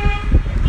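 A car horn honks near a hospital, loud and close, a short blast of under a second.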